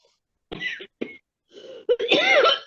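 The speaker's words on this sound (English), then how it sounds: "Still got that cough." A few short, harsh coughs in separate bursts, close by, ending in a longer raspy cough with throat noise.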